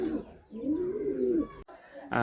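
A desi pigeon in a loft gives a single soft, rolling coo up close, ending abruptly, with quiet surroundings and no speech.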